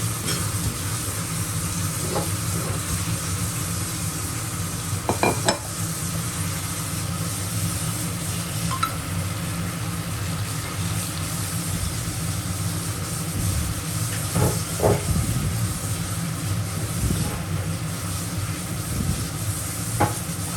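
Soaked potatoes are stirred into a sizzling cashew paste masala for Kashmiri aloo dum, with a continuous loud frying hiss and occasional spoon scrapes against the pan throughout.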